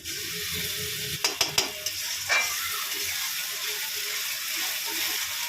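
A paste of ginger, onion, garlic, green chili, tomato, cinnamon, cardamom and cloves fries in a pan, sizzling steadily and softly, with a quick run of stirring clicks and scrapes partway through.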